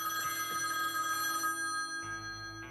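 A telephone rings in the horror video game The Quarry, a steady repeating electronic bell tone that runs continuously and shifts slightly in pitch partway through, with no voices.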